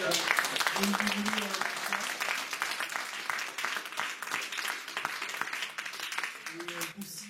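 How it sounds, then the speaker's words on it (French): Audience applause at the close of a presentation on restoring a railway signal box in Lyon Perrache, a dense wash of clapping running throughout, with voices talking over it at moments. "Je vous invite à applaudir tout le travail."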